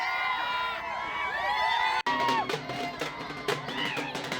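Party workers celebrate a Zilla Parishad election victory with loud crowd cheering, shouts and whoops, a dense continuous roar across the whole stretch with a brief break midway.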